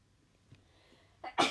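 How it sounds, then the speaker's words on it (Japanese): Quiet stillness broken at the end by a sudden sharp sneeze, a short inhale then a loud burst, close to the microphone. "やばい、くしゃみでそう。"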